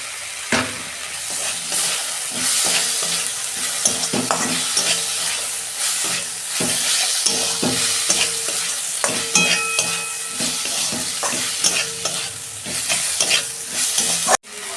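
Potatoes being stirred and fried in a pan for ghugni sizzle steadily, with repeated scraping stirs of a utensil throughout, close and fairly loud, with no talking.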